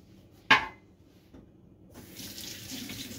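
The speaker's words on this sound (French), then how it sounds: "Je me rince un petit coup la main." In a home kitchen during cake baking, a sharp clink comes first, then a tap is turned on and water runs steadily over a hand into the sink, close by, with no talking.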